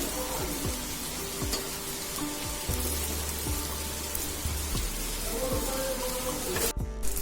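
Stuffed green chillies cook in a pan over low gas, a steady soft sizzle and crackle with scattered pops, close and fairly quiet, with no talking.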